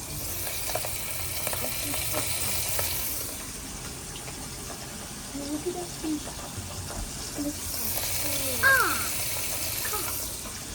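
Food frying in a pan in a home kitchen, a steady moderate sizzle with occasional stirring clatter and a running-water-like wash, while a person talks intermittently over it.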